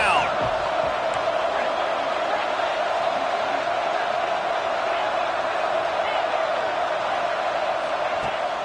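Football stadium crowd roaring steadily as the home fans whip up the defense on third down in an Ohio State game, a dense, continuous wall of cheering and whooping throughout.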